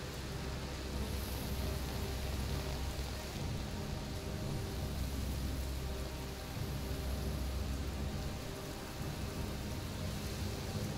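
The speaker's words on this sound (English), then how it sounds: "Bloody rain." Steady heavy rain pours down in the game A Plague Tale: Requiem, a constant broadband hiss with a low rumble underneath and no voices.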